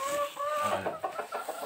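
Chickens cluck close by in a quick series of short, choppy calls, one higher drawn-out note at the start followed by rapid clucks, with no talking over them.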